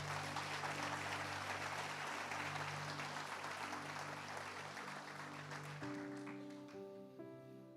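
A church congregation applauds loudly and steadily in a dense wash of clapping, with sustained organ or keyboard chords underneath; the applause thins toward the end as the music shifts to new chords.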